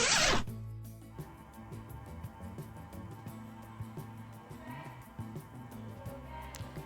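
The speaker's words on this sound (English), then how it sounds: "He stood up and walked to Jungkook, who was zipping up his bag." Someone zips a bag shut with a brief, close zipper rasp, then soft rustling and handling noises follow at a quiet level.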